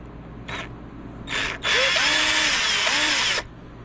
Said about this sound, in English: I'm gonna undo this Phillips head screw here